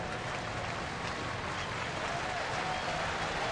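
A crowd at a night baseball game between the Angels and the Kansas City Royals rises in a steady, distant roar, with cheering and applause blending into a continuous stadium wash.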